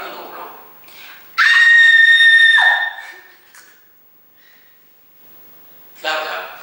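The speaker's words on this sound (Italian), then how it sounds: "Fammi un urlo." A girl gives one loud, sustained high-pitched scream lasting about a second, with a quieter trailing cry and a short burst of sound near the end.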